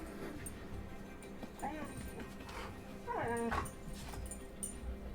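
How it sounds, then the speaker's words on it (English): A young female puppy whimpers and gives a few thin, rising yips, faint and intermittent over a steady room noise with some indistinct background sound. "She is a puppy and she's getting more comfortable with us."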